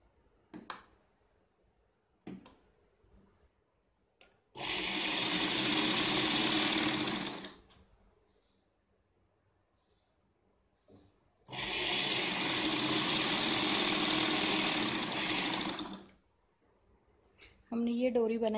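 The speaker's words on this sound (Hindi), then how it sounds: "इसको इस तरफ से फोल्ड करके यहाँ पे हम सिलाई लगाते हैं।" Sewing machine stitching blouse fabric in two sustained, loud whirring runs of about three and four seconds, separated by quiet handling and small clicks, close up.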